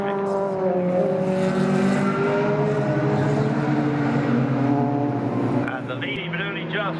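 Race cars at the Silverstone CSP Championship roar past in a continuous loud engine drone with shifting pitch, and another car sweeps by near the end.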